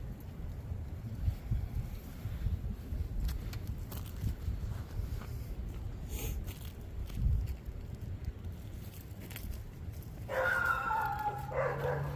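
Dogs bark in short, scattered bursts from some distance outdoors, with wind noise and a low rumble underneath and a brief whimpering yip near the end.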